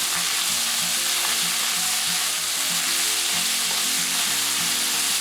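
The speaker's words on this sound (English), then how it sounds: "When it's hot, put the onion and the garlic. Stir for 10 seconds. Put the bean sprouts. Stir for 20 seconds." Onion, garlic and bean sprouts stir-fry in hot oil for a beef dish, with a loud continuous sizzle and a repeated rhythmic scrape of stirring throughout.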